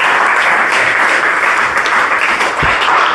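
Applause from a church congregation, a continuous wash of clapping held at steady volume throughout, with no voices standing out.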